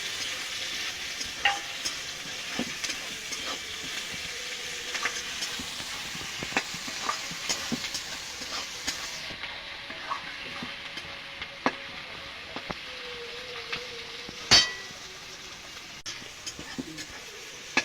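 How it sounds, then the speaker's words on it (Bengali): Chopped tomatoes frying and sizzling in a pan with onion and garlic for mutton kosha, stirred steadily with frequent utensil scrapes and taps over a constant close sizzle. "টমেটো দেওয়ার পর আমি আর একটু ভেজে নিয়েছি"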